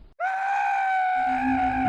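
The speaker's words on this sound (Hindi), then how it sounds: "नील डर के मारे चिल्लाने लगा।" A man screams in fear in a dramatized Hindi horror story, one sustained, loud, strained cry rising abruptly and held steadily to the end, with a low tone entering beneath it in the second half.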